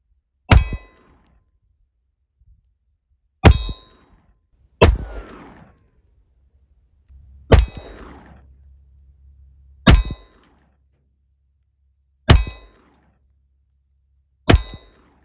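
.22 rounds strike an AR500 steel hopping target: seven sharp shot-and-clang impacts spaced a few seconds apart, each with a brief ringing decay, and no talk between them.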